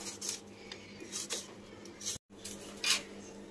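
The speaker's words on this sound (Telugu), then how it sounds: "అరటికాయలు పొట్టు తీసేసా, ముక్కలు కట్ చేసుకుంటున్నా." A knife cuts peeled raw bananas into pieces, making scattered light taps, scrapes and clicks against the cutting surface, with a short break of silence partway through.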